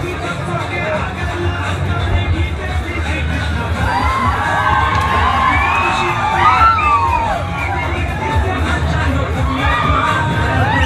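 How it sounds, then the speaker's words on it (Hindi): Large crowd at Lalbagh park in Bangalore, a busy picnic-style garden: dense, steady babble of many voices with children shouting and occasional whoops, continuous throughout. "बहुत ज़्यादा ही भीड़"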